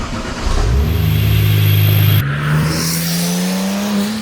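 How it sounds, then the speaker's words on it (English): Porsche 997 911 Turbo fitted with a custom AWE exhaust, revving hard: a loud, close blip that rises and holds, then drops back to a smooth idle with a turbo whistle, no voices. "That's the exhaust that's on the car now."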